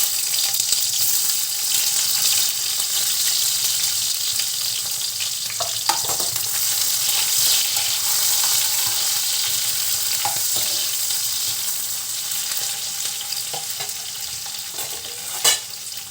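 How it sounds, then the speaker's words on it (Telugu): Chopped onions frying in hot oil in a home kitchen pan, a steady soft hiss and sizzle with occasional stirring clinks and scrapes, moderately quiet and with no talking. "ఈ ఆనియన్స్ బ్రౌన్ కలర్ వచ్చే వరకు వేయించుకోవాలి."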